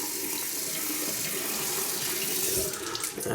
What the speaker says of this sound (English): And I wet my hands with the really cold tap water.